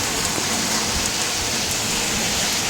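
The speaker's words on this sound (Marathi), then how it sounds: "4 दिवस तुफान पाऊस पडतो" Heavy monsoon rain falls in Vasai-Virar during a days-long downpour, giving a dense, even hiss of rain on surfaces, close and continuous with no voices.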